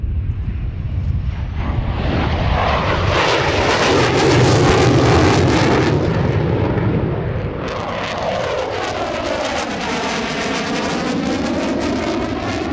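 A Su-27 fighter jet roars overhead, its engine noise swelling loud and close before sweeping past, the pitch sliding downward as the aircraft recedes into a fading rumble.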